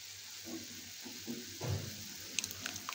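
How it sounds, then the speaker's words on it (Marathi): A pot of salted water heats on the stove for modak dough, giving a faint, soft bubbling and sizzling that is quiet and close, with no talk over it. "हे चांगलं पाणी उकळून द्यायचंय"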